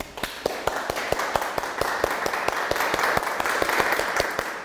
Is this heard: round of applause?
yes